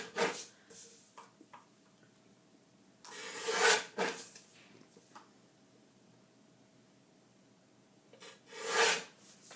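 Photocopied paper being trimmed for a scrapbook, heard as close, soft rasping strokes in short bursts, with a few quiet rustles and pauses between the cuts.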